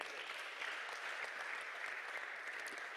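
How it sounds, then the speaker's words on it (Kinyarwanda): Wedding guests applaud the couple in a steady, even burst of clapping that holds throughout, with no speech over it. "Mubakomere amashyi cyane."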